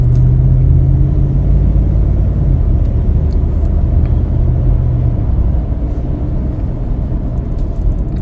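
A 2022 Ford F-250 XLT Crew Cab 4WD pickup on a test drive gives a steady, loud low engine and road rumble inside the cab, with no break and no voices.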